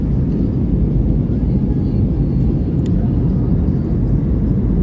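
Steady, loud low-pitched engine drone fills the cabin throughout, a constant airplane rumble in flight over Delhi with no breaks.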